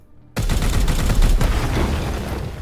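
Gunfire and an explosion from the Warhammer 40k: Chaos Gate - Daemonhunters video game, a sudden loud burst after a short silence that rolls on as a dense, sustained roar to the end.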